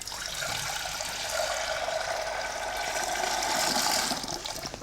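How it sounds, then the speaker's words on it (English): Water mixed with lemon juice pours steadily into a pan in a kitchen while preparing celeriac for a vegetarian tagine, a continuous close splashing and filling sound with no talk. "So we're just going to put some water with that lemon juice in that pan."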